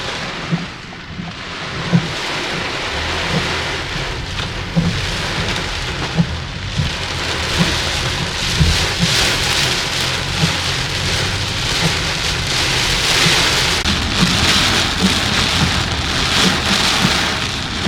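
Heavy rain pounds on a car in Jamaica, a dense, continuous drumming on the roof and body that swells louder toward the end, with low rumbles of thunder underneath.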